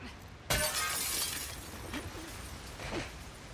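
Glass shatters in the video game The Last of Us Part II with a sudden loud crash, then tinkling debris trails off over a few seconds.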